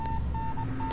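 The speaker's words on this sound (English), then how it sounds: "The beeping becomes gradually louder, almost as if it's trying to tell me something." Beeping in the horror game Death Mark: a steady mid-pitched tone pulses in four sustained beeps over a constant background hum, with no talking.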